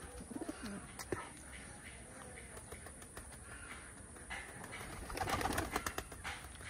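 Khulna high-flying pigeons coo faintly in the distance, with soft repeated calls, a few wing flaps and light chirps against quiet background noise.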